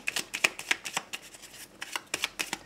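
Petit Lenormand oracle cards are shuffled for a reading, close and crisp, with quick irregular riffling flicks and slaps repeating over a few seconds with no talk.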